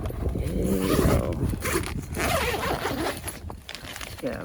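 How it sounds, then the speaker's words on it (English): Zippers on a budget camping tent pulled open in long, raspy runs, close and loud, with fabric rustling and a brief murmur of a voice underneath. "Alright, the zippers."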